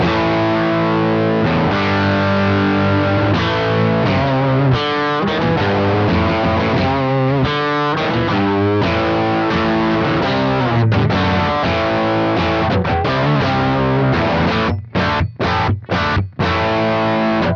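Distorted electric guitar plays chords and riffs through a Neunaber Iconoclast with a '59 amp sound, extra gain and boosted bass, a thick, saturated tone, loud and continuous, ending with a few choppy stabs.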